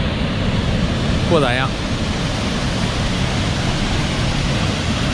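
A small, undeveloped waterfall beside a rickety walkway gives a steady, loud, broadband rushing roar throughout, with one short spoken remark near the start.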